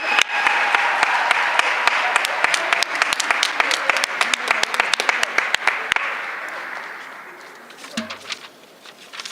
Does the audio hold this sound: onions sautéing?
no